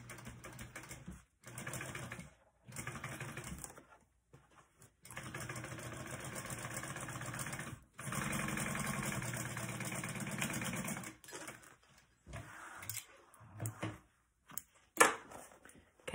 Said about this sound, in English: go ahead and you're going to sew this at 3/8